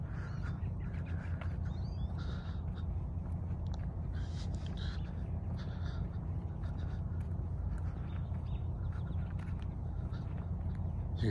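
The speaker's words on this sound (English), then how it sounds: "You can hear all the birds." Birds, probably ducks or waterfowl, call repeatedly at William G. Milliken State Park on the Detroit riverside near a lighthouse on a cold day, several faint quacks and chirps over a steady background roar of wind or water.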